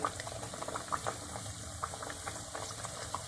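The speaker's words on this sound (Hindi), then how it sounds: "अब मैं फ्राई करने लगी हूँ। बिस्मिल्लाह। एक एक करके करेंगे फ्राई।" Sweet tikray dough frying in hot oil gives a continuous soft bubbling and crackle, with small pops scattered through it and nothing else over it.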